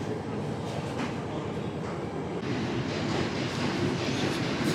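A small passenger train rumbling steadily along the line near Ella, a continuous rolling clatter that holds close and loud throughout with no talk over it.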